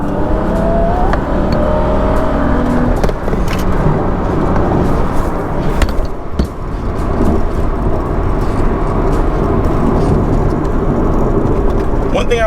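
Car engine pulling hard in third gear after a downshift on a car fitted with Vorsteiner wheels: a loud, steady roar with wind and road noise, heard from inside the cabin while someone talks over it.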